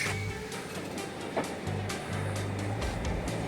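A train departs a station in Węgierska Górka at dawn, a low rumble with rhythmic wheel sounds and hiss, moderately distant and steady.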